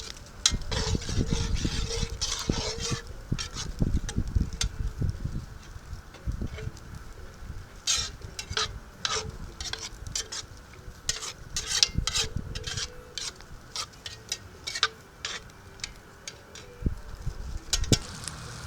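Garlic cream sauce reducing in a pan over a campfire, a soft continuous sizzle and bubble with repeated scraping stirs and clicks of a utensil against the pan.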